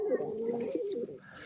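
A pet pigeon coos softly and close by, giving a brief run of low, rolling coos.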